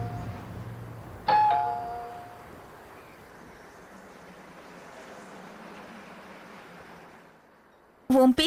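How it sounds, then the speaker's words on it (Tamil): A doorbell chimes loudly and briefly near the start, then a low steady ambience runs under it, and a second burst of bell tones cuts in right at the end. "யாரோ காலிங் பெல் அடிக்கிறாங்க."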